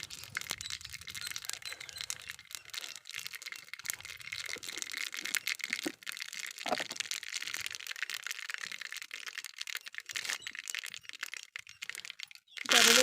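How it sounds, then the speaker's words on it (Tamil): Mustard seeds splutter and pop in hot oil while a village-style drumstick leaf masiyal is tempered, making a dense, quiet, continuous crackle of tiny bursts that ends in a louder rustle. "கடுகு நல்லா பொரிய ஆரம்பிச்சிருச்சு."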